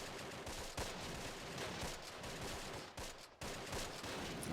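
Rattling bursts of machine-gun and rifle fire in the World War II strategy game Close Combat: The Longest Day, a bridge battle at Brevands, with steady overlapping volleys and a few louder shots, faint and distant in the mix.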